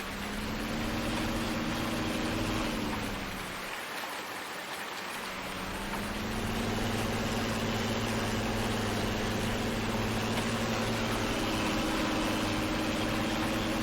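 A tractor with front weights drones steadily while drilling seed in Farming Simulator 19, its engine dipping briefly before returning to a constant, even hum.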